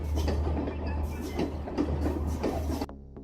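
A train on the Kandy to Ella railway in Sri Lanka rolls past loudly with a deep rumble and rhythmic clickety-clack of wheels on rails, then cuts off abruptly near the end.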